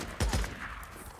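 Enemy gunfire in the video game Days Gone: two quick, heavy shots close together near the start, then a fading rumble and tail.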